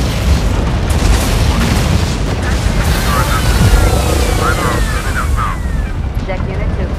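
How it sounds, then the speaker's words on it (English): Artillery fire in Tom Clancy's EndWar, a military strategy game, pounds as a dense, loud wall of rumbling booms that runs without pause through the whole stretch. "Artillery fire on opposition."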